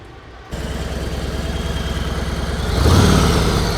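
A motorcycle engine idles steadily with a close, even low throb during a riding lesson, then swells as it revs up briefly near the end. No one speaks over it.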